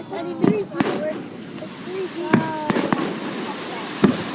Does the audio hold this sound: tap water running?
no